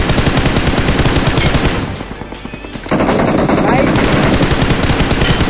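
Rapid automatic gunfire from a shooting video game fills the mix, with dense repeated shots, a short lull partway through, then the firing resumes just as loud while players talk over it.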